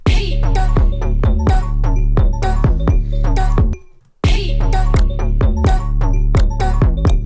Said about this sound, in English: another vocal chop